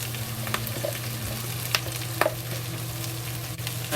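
Collard greens fry with scallion in a hot pot, giving a steady close sizzle with a low hum underneath and a few sharp clinks and scrapes from stirring.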